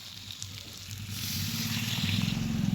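Water is poured into a pan of vegetarian potato curry (alur dum) frying in oil, and a soft hiss swells into a louder, steady bubbling sizzle.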